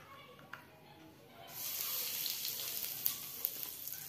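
Asafoetida (hing) dropped into hot oil in a kadhai sets off a loud, steady sizzle and hiss that bursts in partway through and keeps crackling after a quieter start.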